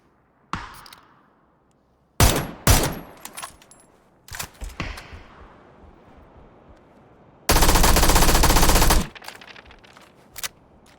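Gunfire in the battle game PUBG: scattered single shots crack out, followed by a long sustained burst of automatic fire and a final faint pop, all loud and close with no talking.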